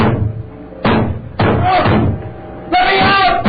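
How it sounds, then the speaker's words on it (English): Heavy banging on a door in a dramatized audio story, three loud separate slams spaced about a second apart, close and forceful, with a voice over them. "I went to the door and banged on it."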